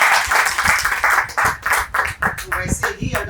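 Audience clapping at a wellness business-plan seminar: a dense patter of hand claps that rises in the second half, mixed with a voice speaking over the crowd.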